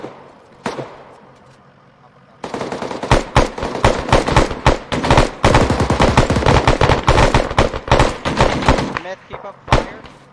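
Sustained bursts of automatic gunfire at a cadet corps reunion training exercise, loud and close, with a lone shot early, then rapid, dense volleys running almost continuously for eight seconds before a final short burst.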